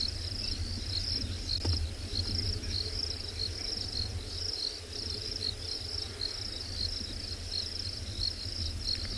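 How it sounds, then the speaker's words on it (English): A chorus of crickets calls without pause in the lush bush of a South African game reserve on an afternoon safari, even and fairly faint throughout, with no speech. "I don't know if you can hear all the crickets calling around us."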